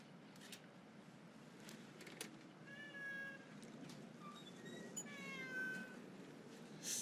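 A cat meows several times close by. The calls are fairly quiet over low room noise, and no one speaks.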